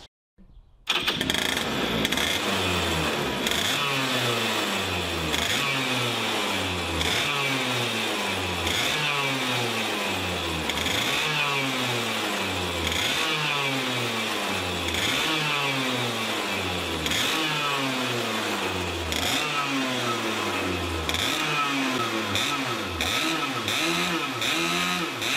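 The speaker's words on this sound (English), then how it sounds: "All right, Doug, can you give people tips on how to start the VLR to try to avoid damaging the bendix and the flywheel?" A VLR 100cc engine catches after a short silence and runs loudly and close by, its pitch rising and falling in a steady series of revs that pulse for the rest of the stretch.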